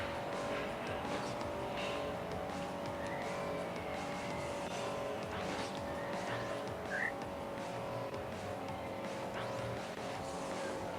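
Race cars in a racing video game, a steady, dense engine drone with faint tire squeals, continuous and fairly quiet, with no talking.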